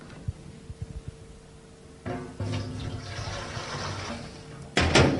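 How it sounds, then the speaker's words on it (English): Water poured into a metal drum, a steady rushing pour that starts partway through, continues for a few seconds, and ends in a louder splash burst after some quiet clatter at the start. "we're going to put some water in here"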